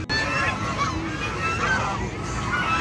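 A flock of ducks at Karachi Zoo honks and quacks in a dense, continuous clamor close by, many birds calling over one another.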